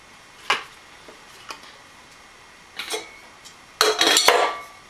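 A lightweight backpacking cook pot set clinks as it is handled. A few sparse metallic taps lead into a busier rattling clatter of nested pots at the end, close by, with no talking.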